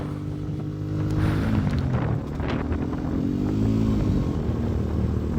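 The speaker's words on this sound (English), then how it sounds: "this bike's quite loud. It's a lot louder than a car." A Lexmoto ZSX-R EFI motorcycle is ridden on the road, its loud, close engine droning and rising and falling in pitch as the throttle changes, with wind buffeting the rider's microphone throughout.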